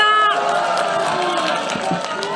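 A political rally crowd roars and claps loudly after a voice fades out, a close, dense mass of cheering and applause with shouts rising through it.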